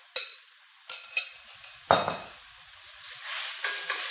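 A cholesterol-free scrambled egg substitute is stirred on a plate with no oil, giving a few sharp utensil clinks and scrapes against the plate, separated by quiet gaps, followed by a soft sizzling hiss toward the end.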